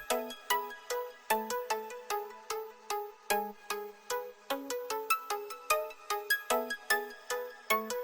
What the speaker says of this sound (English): That's how a Pluck with effects sounds like.